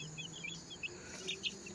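Soft, scattered clucking from a few chickens at a distance, quiet chirps over a faint steady background hum.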